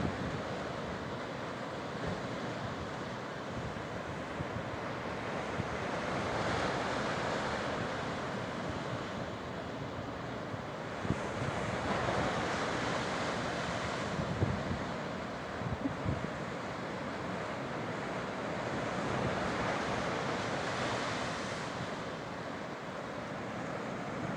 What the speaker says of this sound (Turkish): Bugün rüzgar yok sadece denizin sesi geliyor.